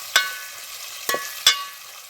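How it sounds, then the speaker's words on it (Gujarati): Cluster beans frying in oil with cumin, stirred in the pan: a soft steady sizzle broken by three sharp scraping knocks of the spoon, close and alone. "ગુવાર નાખીને જીરા કલાવી નાખશું"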